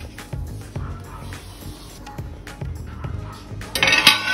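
Metal pot lid set down on a pot of aloo matar, a potato and pea curry, in a home kitchen, heard as a few light clinks and taps ending in a brighter metallic clatter.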